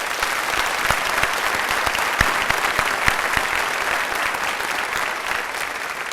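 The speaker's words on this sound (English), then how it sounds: "Please join me in a round of applause for these fine staff members." Audience applause at a 2006 high school graduation ceremony: dense, steady clapping from a large crowd that continues without a break, with a few sharper individual claps standing out.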